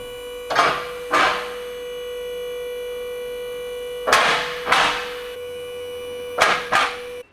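A vehicle lift raises a 1999 Honda EK-chassis car with a D16Y engine in a workshop: a steady motor hum runs throughout, broken by paired bursts of loud hissing.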